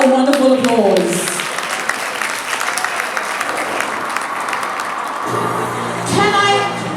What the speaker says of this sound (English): Can we give her a wonderful applause?